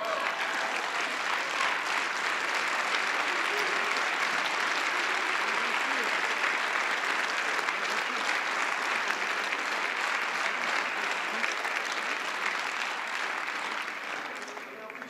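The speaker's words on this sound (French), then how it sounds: "Et je ne résiste pas au plaisir de faire ovationner par La République En Marche Caroline Fiat" Members of the French parliament applaud in the chamber, producing a long, dense, loud ovation that holds steady for about fifteen seconds before tapering slightly.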